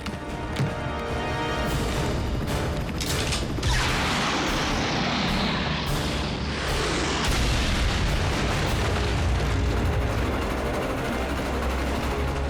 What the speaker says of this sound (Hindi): मैक ने ट्रेन ट्रैक्स उड़ा दिए